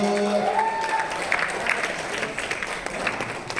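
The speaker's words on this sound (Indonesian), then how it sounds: "tepuk tangan dong, Bapak Ibu" A crowd breaks into steady applause, many hands clapping together for several seconds with a faint murmur of voices underneath.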